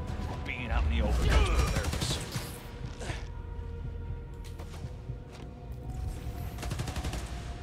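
Gunfire in the video game Spider-Man: Miles Morales, with rapid bursts of shots and crashes that are loudest early on, then sparser volleys over a constant game background, with a voice talking over part of it.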